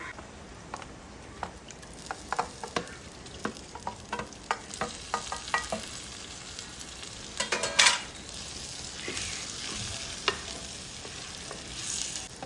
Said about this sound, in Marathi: आता आपण ही कोळंबी या ग्रेव्हीमध्ये मिक्स करून घेऊया